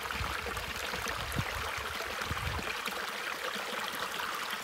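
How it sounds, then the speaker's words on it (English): A small babbling brook flows along a canoe portage near Gun Lake, with steady, close burbling and rushing water that continues unbroken throughout. "Cute little babbling brook here."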